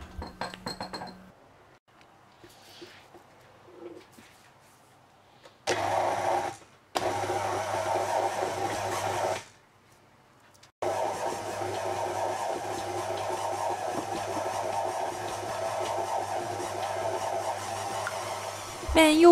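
Food processor kneading dough for stuffed meatballs (içli köfte), a loud steady motor whir that starts, stops briefly, then runs on continuously, with clinks and handling noises in the quieter gaps before it.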